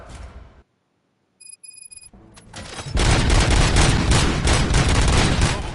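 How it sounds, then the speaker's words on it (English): Rapid gunfire from the RoboCop: Rogue City video game erupts after a short silence and a few electronic tones, then becomes a loud, dense, continuous barrage. "Gunshots? What's going on?"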